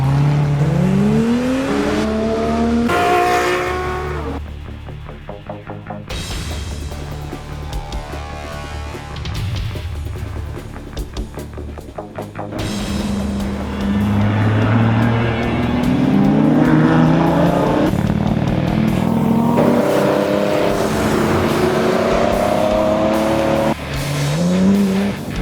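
A car driven hard along a winding mountain road, its engine revving up and down through repeated shifts, with tires squealing in bends, close and loud throughout with no talking.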